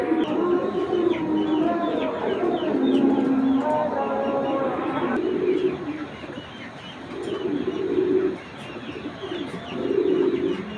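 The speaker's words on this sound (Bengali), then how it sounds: "এই যে অরিজিনাল ক্লাবের কবুতর" Racing pigeons in a loft coo loudly and close, deep rolling throaty calls in repeated bursts, the rhythm of the cooing continuing throughout with no talk over it.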